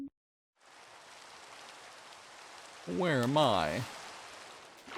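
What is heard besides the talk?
rain falling in Minecraft, a video game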